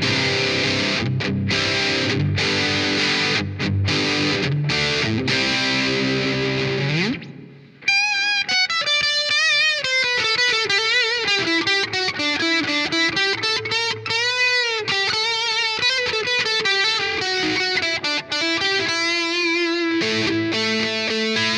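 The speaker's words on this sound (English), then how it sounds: "let's hear it with some overdrive and distortion" Electric guitar through an eBay dual-rail humbucker pickup and a Boss DS-1 distortion pedal plays with heavy overdrive, first sustained chords and then a run of fast distorted lead notes and bends, with no one speaking.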